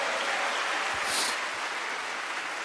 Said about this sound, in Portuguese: libere um aplauso bem forte ao nome do Senhor